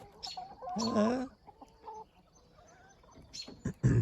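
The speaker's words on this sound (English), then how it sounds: "I thought I would share with you guys this morning my letting the chickens out." Backyard chickens clucking and murmuring nearby in short bursts as they are let out of a mobile pen in the morning, with a louder squawk toward the end and quiet gaps between calls.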